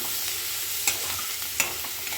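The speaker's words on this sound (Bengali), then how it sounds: "পেঁয়াজগুলো একটু ভাজা হবে, বেশি ভাজবো না।" Onions and garlic frying in white oil give a steady, close broadband sizzle, broken by two sharp stirring clinks from a utensil.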